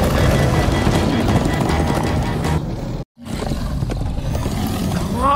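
Horses galloping in the Minecraft Story Mode video game, a loud rhythmic clatter of hooves with rumbling game effects, broken by a brief drop to silence before the pounding resumes.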